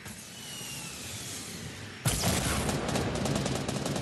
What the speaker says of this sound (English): I hear shots to your left somewhere